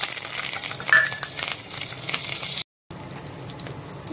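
Tempering for mango rasam: fenugreek, cumin, dried red chillies, green chillies and curry leaves fry in hot oil. A continuous close, hissy sizzle runs throughout, with a brief cut to silence near the end.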